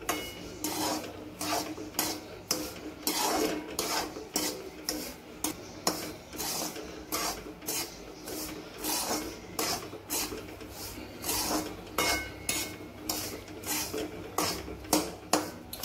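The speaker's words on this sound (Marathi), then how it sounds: "या रव्याला छान असं या तुपामध्ये परतून घ्यायचं।" Semolina stirred and roasted in ghee in a pan gives steady rhythmic scraping, a spoon rasping and clinking against metal in repeated strokes, close and moderately soft, with no one speaking.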